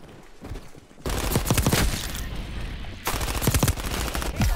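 Bursts of rapid MP5 submachine gun fire in Call of Duty: Black Ops Cold War, two sustained volleys of close, dense shots separated by a brief lull.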